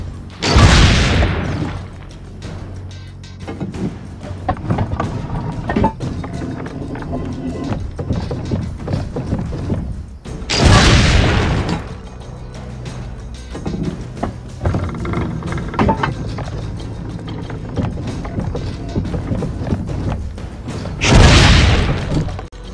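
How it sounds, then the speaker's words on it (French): Cannon blasts in the video game Assassin's Creed Brotherhood: three loud booming shots spaced about ten seconds apart, each followed by a rumbling decay, over busy game sounds and background clatter. "On va essayer le canon."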